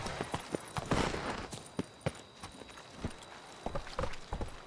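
Geralt's horse Roach in The Witcher 3 walks along with steady, clear clip-clopping hooves, a close, irregular patter of individual hoof strikes with a faint background hum.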